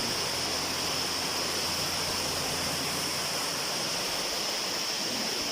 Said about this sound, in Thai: น้ำตกนี้ครับ